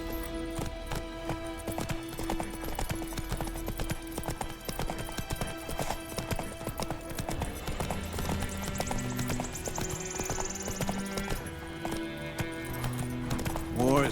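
Geralt's horse Roach galloping in The Witcher 3, steady rhythmic hoofbeats alongside orchestral game music and character dialogue.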